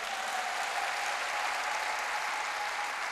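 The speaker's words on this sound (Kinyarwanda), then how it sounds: "Reka dukomere Imana amashyi." A church congregation claps together in a steady, dense wash of applause, even in level and unbroken, with no voices standing out.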